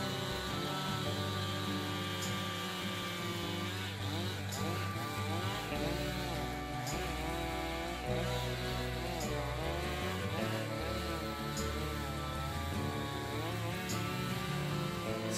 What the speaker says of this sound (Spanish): el tronco, ya limpio de ramas, se va rebanando, de la misma forma que se rebana una salchicha.